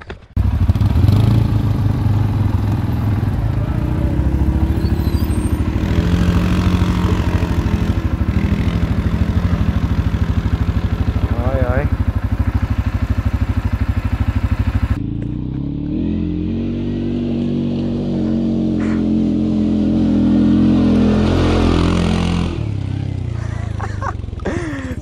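A CFMoto 450L ATV engine revs hard as the quad climbs a steep hill near a dam. The engine drones loud and close throughout, and its tone shifts partway as the throttle and load change.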